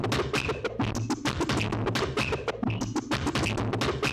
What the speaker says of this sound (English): it was this higher pitched percussion loop that wasn't tempo synced